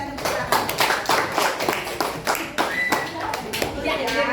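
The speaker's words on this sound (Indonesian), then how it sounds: "kita berikan tepuk tangan" A school class of children clapping hands together in a classroom, a brisk run of rhythmic claps close by, steady and fairly loud for the whole stretch.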